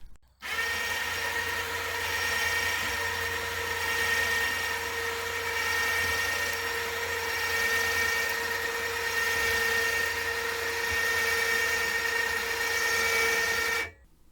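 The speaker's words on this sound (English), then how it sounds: "There is a remote control that activates the winch that pulls up or lets down the lift." A steady electric winch motor raising a tow-behind pallet lift whirs continuously for about thirteen seconds, a constant mechanical hum starting and stopping abruptly, close by.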